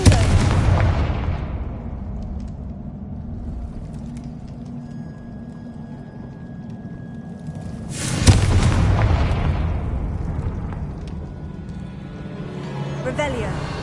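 A Confringo fire-spell blast from the Hogwarts Legacy video game: two loud, booming explosions, one at the start and another midway, each trailing off into a rumbling decay over a low background.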